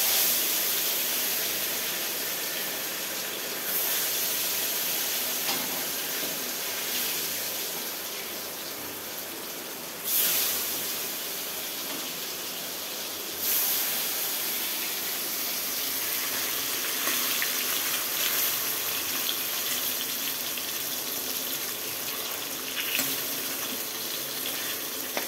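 Fish frying in hot oil gives off a loud, continuous sizzling hiss that lasts throughout, with a few brief louder surges as pieces are added.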